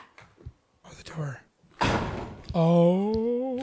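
A door thuds shut with a loud, sharp impact, followed by a voice with a drawn-out tone; quieter talk comes before it.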